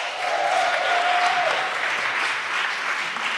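An audience in a hall at a fringe festival opening ceremony applauds, a sustained, even roar of many clapping hands heard close and loud, with a faint whistle near the start.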